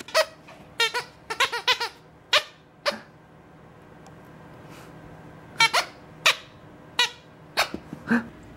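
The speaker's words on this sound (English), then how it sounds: "Oh, you got it to squeak." A corgi puppy squeezes a squeaky toy, making bursts of sharp, high squeaks in quick clusters with pauses between them, close and fairly quiet, with no talking.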